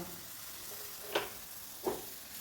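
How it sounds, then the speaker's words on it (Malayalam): Mustard seeds for tempering splutter in hot oil, giving two sharp, separate pops about a second apart over a faint, quiet sizzle. "അപ്പോൾ കടുവൊക്കെ പൊട്ടിച്ചൊഴിച്ചു കേട്ടോ"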